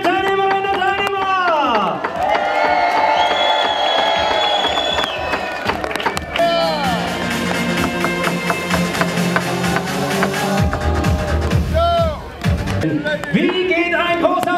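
A large crowd at an outdoor homecoming reception for skier Johannes Rydzek in Oberstdorf, Germany, roars and cheers loudly and continuously, with music and scattered clapping mixed into the steady din.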